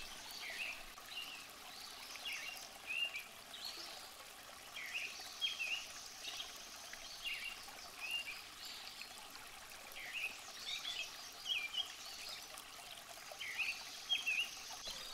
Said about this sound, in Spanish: un arroyo que pasa por un barranco